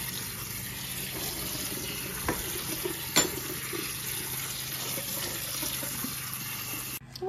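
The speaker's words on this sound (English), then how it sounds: "then we'll let it sit and we'll drain out as much as we can" Water pours steadily as cooked macaroni drains into a sink, a constant rushing hiss broken by a couple of brief clanks before it cuts off at the end.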